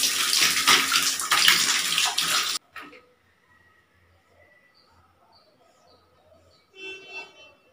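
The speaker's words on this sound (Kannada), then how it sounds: "ಇವಾಗ ನೀಟಾಗಿ ಹ್ಯಾಂಡ್ ವಾಶ್ ಮಾಡೋಣ ಅಂತ ಬಂದಿದ್ದೀನಿ" Tap water pours steadily into a sink while hands are washed, a loud splashing hiss that stops abruptly, leaving quiet room sounds and a few faint clicks.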